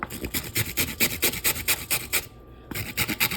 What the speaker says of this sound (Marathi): हे कॅरेट ते मी किसून आणि कापून जसं होईल तसं घ्यायचं